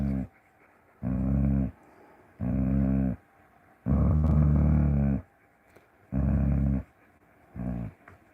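A dog growls and vocalizes in a series of six loud, drawn-out bursts, each about half a second to a second long with short pauses between, close to the listener and with no talk.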